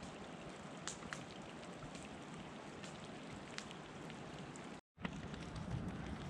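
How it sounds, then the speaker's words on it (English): Light rain falling on a wilderness campsite, a soft continuous patter of drops with occasional louder taps close by, faint and steady, briefly cutting out before resuming. "Now a nice little light rain."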